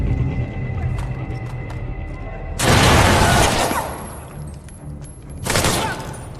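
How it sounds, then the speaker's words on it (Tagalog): A grenade blast and bursts of gunfire in an action film ambush, with two loud, broad explosive roars separated by a few seconds and scattered cracks and background noise in between. "Inambush niya ang mga humahabol gamit ang isang granada sa gitna ng putukan."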